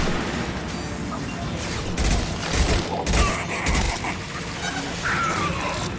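Weapons fire aboard a derelict Collector ship in Mass Effect 2, a dense loud fusillade of booms and crashes over continuous rumbling background.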